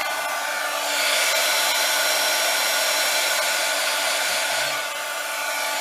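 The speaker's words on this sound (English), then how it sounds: "And it's good to put some heat, go away, put some heat, and then go away." A handheld heat tool blows steadily, a loud continuous rushing hiss held for several seconds, used to melt shimmer embossing powder on a sympathy card.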